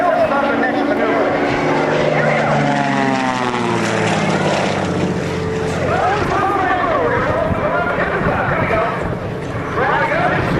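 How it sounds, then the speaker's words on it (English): A propeller aerobatic plane, the Oreck XL Cyclone, drones overhead at an airshow as it flies a loop and rolls upright, its engine note shifting and sweeping beneath a continuous announcer's commentary. "as he floats the aircraft in the loop, now push forward on the stick, the left aileron, and he rolls right side up"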